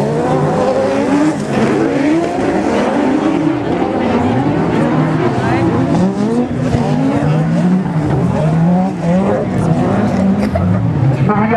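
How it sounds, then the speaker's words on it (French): Racing buggy engines whine and rise and fall in pitch as the buggies pass, loud and continuous, with an excited commentator talking over the roar. "Je peux vous dire que là, le moteur de David Filan, il a activé."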